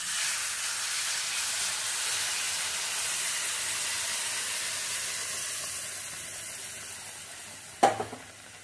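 Milk is poured slowly into roasted semolina in a pan over a low gas flame, making a steady hiss and sizzle that fades gradually before a short, sharp burst of crackling near the end.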